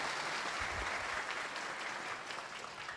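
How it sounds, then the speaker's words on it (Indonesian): An audience applauding to welcome a speaker at a religious talk, a dense, continuous wash of clapping from a large crowd that holds steady and fades slightly toward the end. "Kita sambut dengan tepuk tangan untuk Buya Yahya"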